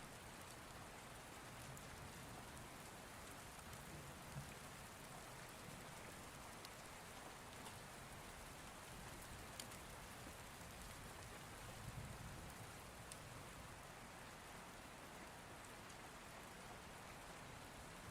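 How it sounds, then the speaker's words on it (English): Heavy rain pours steadily and loudly, a dense, constant hiss of drops hammering a surface with no letup and no voices. "The heavy rain pounded against the windshield of the truck as Mark gripped the wheel"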